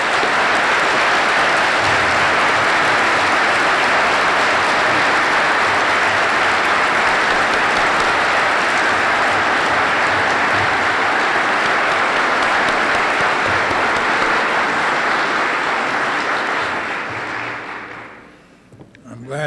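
Sustained, dense applause from a large audience at a Ball State University College of Architecture and Planning building dedication, honoring Amory Lovins; steady and loud for most of the span, then tapering off near the end.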